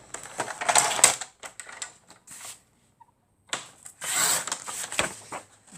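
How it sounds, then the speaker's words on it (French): A guillotine paper cutter slicing sheets for a homemade calendar, heard as clustered crisp scraping and clunking strokes, close and fairly quiet, separated by a short pause before another burst of cutting sounds. "on va couper au massicot"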